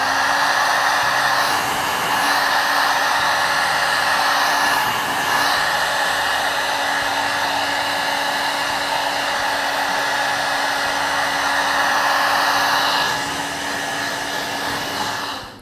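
A hair dryer blows a loud, steady whoosh close by while drying paint on a decorated elephant figure. It holds constant for about fifteen seconds, with slight shifts as the airflow moves across the piece, then cuts off at the end.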